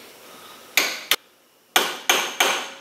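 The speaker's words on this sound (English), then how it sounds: "just some little quick taps to press this guy into place." Hammer tapping a 3/8 extension used as a punch to press a part into place during a Jeep Wrangler Yukon 4.88 gear install: five sharp metallic taps, one pair then a quick run of three, close and loud.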